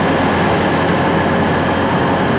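A British Rail Class 142 Pacer diesel unit rumbles and clatters loudly at close range, a dense, continuous mechanical roar of engine and rail noise with no voices.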